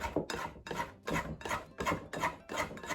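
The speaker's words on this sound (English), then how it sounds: "Just scrape down the side of the bowl." A spatula scrapes down the side of a bowl of shaggy sourdough in a series of about eight short, rough, rasping strokes, evenly paced and close, with no talk.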